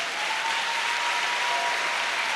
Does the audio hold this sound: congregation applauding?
yes